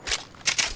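A weapon being reloaded in a battle royale shooter game: two quick metallic clicks and a clack close together, with a softer click before them, short and fairly quiet.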